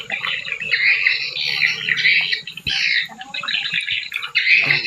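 Swiftlets call in a steady stream of high chirps and twittering, fairly close and clear, with short pauses in between and a faint sharp knock midway.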